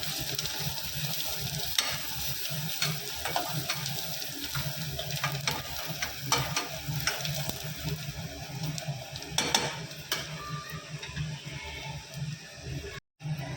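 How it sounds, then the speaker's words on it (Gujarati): Palak being fried in a pan sizzles while a utensil scrapes and stirs through it in irregular strokes, close up, with a steady frying hiss underneath. "હવે આપણે આને હલાવીશું"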